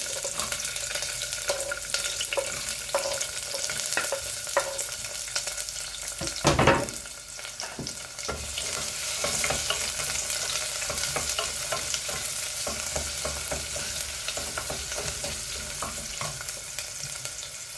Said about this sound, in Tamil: இங்கே சின்ன வெங்காயம் பூண்டு எல்லாமே கட் பண்ணி வச்சுருக்கிறேன் எல்லாம் போட்டுட்டு அப்புறம் காயும் போட்டு வதக்கிடலாம்